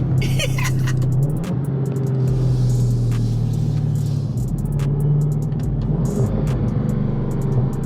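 A Dodge Charger Widebody Hellcat's supercharged engine rumbles and revs nearby, a deep steady drone rising in a couple of swells with faint supercharger whine over it.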